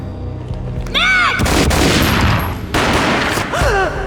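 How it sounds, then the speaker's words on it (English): Gunfire in the Max Payne video game: loud close booming shots with heavy low rumble, a dramatic slowed sweeping whoosh before and after, and bursts that cut in sharply and ring out. "A gunshot boomed and she fell down in slow motion."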